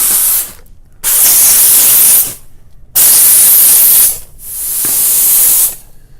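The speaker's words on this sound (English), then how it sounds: "watch what happens when we put some steam on it" Loud hissing bursts from a steam cleaner spraying onto glass in three long blasts separated by brief gaps, close and forceful.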